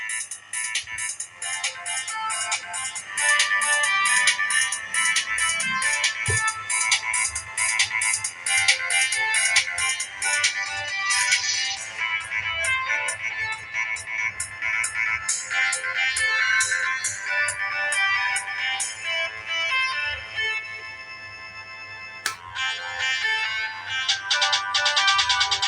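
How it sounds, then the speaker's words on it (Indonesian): Ringtone from a Sony Ericsson T303 mobile phone, a loud, continuous bright electronic melody of quick repeating notes playing for about 25 seconds with no talking over it. "dan di sini coba kita tes ringtone-nya."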